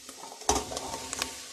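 Green beans being stirred into a pot while cooking, a quick scrape and clink of a utensil followed by light stirring noises over a soft sizzle.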